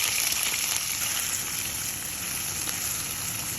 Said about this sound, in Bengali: আমি এখানে অনিয়ন দিয়ে দিচ্ছি